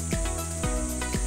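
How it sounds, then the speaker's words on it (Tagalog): A cricket chirps in a calm city park in Valenzuela, three crisp pulses in quick succession over a constant high-pitched insect hum, near and with no voices. "Narinig na kayo ng kuliglig?"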